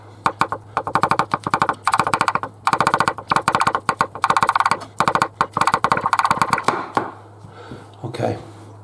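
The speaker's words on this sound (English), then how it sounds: "all I'm going to do is just roughly chop them up" Rapid, rhythmic knife chopping of vegetables on a cutting board, many sharp close taps in quick bursts, over a low steady hum, ending with a few scattered knocks.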